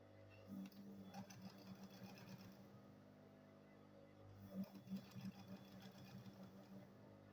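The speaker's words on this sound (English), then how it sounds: "Then I'll go ahead and sew it here." Faint sewing machine stitching a small fabric mini purse, two short runs of rapid mechanical stitching separated by a brief pause, quiet and close.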